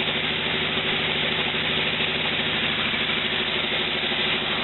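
The engine of a 1949 Willys jeep idles continuously, a low rumbling drone with even mechanical pulsing, close by and unchanging throughout.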